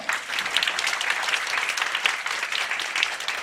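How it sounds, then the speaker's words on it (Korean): A church assembly at a presbytery's 100th regular meeting and opening worship service claps together in a dense, even round of applause that stays loud and steady throughout, with no voices over it. "박수 한번 드리겠습니다"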